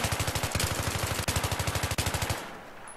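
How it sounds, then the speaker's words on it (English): M4A1 assault rifle in Battlefield 3 fires rapid automatic bursts, a steady rattle of closely spaced shots broken by two brief pauses, ending abruptly near the end. "I recommend shooting this weapon in bursts"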